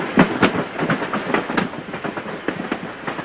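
An Alaska gold rush era railway train rolls along the rails near Skagway, with steady rhythmic clickety-clack wheel beats repeating over a continuous rumble, fairly loud and close, no talking.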